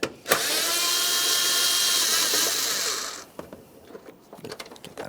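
A power ratchet on a 10mm mounting bolt at the bumper of a 2009-2014 Nissan Maxima 3.5L V6 whirs loudly for about three seconds, then stops, leaving scattered clicks and light handling noises.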